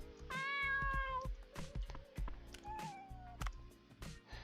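Cat Momo meowing in the video game Dave the Diver, two clear drawn-out meows over a rhythmic game music beat with clicks and thumps, loud and close.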